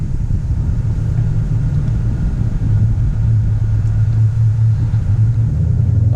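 A supercharged 2018 Mustang GT with a Whipple supercharger idles with a loud exhaust, giving a deep, steady, throbbing rumble that holds close and even throughout, with no voices.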